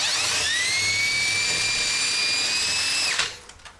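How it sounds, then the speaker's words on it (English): An electric drill spins up with a high, steady whine as it bores out existing holes with a slightly larger bit, running close and loud for about three seconds before winding down abruptly. "I should just take my next size up drill bit and make the holes better."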